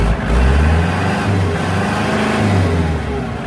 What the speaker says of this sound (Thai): เดี๋ยวเราลองมาสตาร์ทเครื่องยนต์ดู เสียงเครื่องมันเป็นยังไง